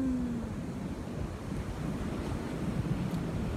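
Ocean waves breaking on a shore, a steady broadband wash of surf with wind buffeting the microphone, continuous and fairly loud throughout with no voices.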